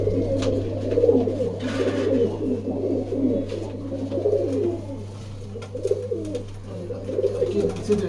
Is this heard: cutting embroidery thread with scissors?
no